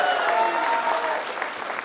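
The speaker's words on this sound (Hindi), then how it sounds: "तालियों का घनत्व बढ़ाइए।" Sustained audience applause at a Hindi kavi sammelan poetry recital, dense and steady clapping throughout at close range, tapering slightly toward the end.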